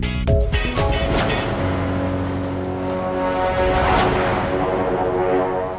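A car pulling up outdoors, a loud engine hum with a falling whine that settles into a steady idle, heard alone and close.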